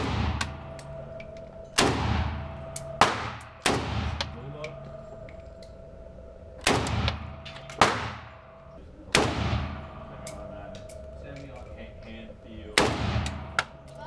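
An AK-47 rifle fires seven single gunshots at irregular intervals of one to three seconds; each sharp, loud crack is followed by a short echoing decay.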